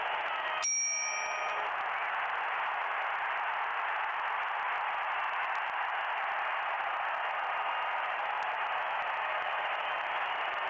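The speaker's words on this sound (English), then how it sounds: "Push the bell again." A single bright ring of a small bell in the Syberia video game, struck once near the start, then fading against a steady hiss of background static.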